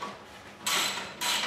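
A 12 mm socket on an extension works a bolt out of a Honda CX500 motorcycle engine mount with a welded-on nut, giving two close, bright bursts of metallic ratcheting and scraping with quieter creaking between them.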